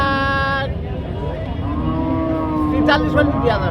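A cow at a cattle market lets out a long, deep moo that fades into the hubbub of the busy outdoor market, with indistinct voices and movement nearby.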